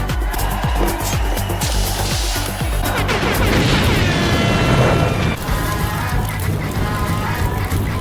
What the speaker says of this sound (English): create an explosion from a gas cylinder